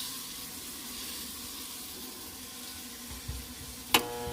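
Kitchen sink faucet running near a garbage disposal, a steady faint hiss of flowing water with a couple of small clunks near the end.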